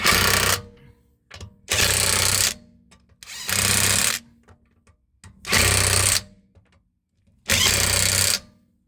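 A power tool tightens the rear brake caliper lock nut on a Volkswagen Golf during a brake pad change: five loud, evenly spaced mechanical bursts, each about a second long, with short quiet gaps between them.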